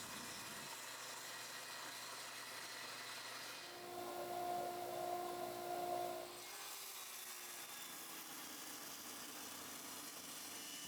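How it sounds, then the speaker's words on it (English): A table saw fitted with a rip blade cuts maple boards lengthwise, its steady hum rising into a louder, brighter whine for a few seconds mid-cut before settling back. "I used a rip blade and the table saw to break them down lengthwise first"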